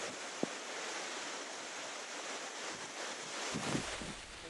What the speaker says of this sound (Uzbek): Suv qoyalarga qanday kelib urilayotganini ko'ryapsizmi?